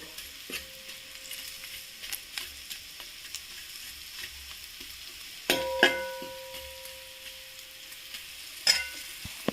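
Beef chilli dry fry sizzles in a pan under a steady frying hiss, broken by occasional metal clinks and scrapes of stirring, close and alone without speech.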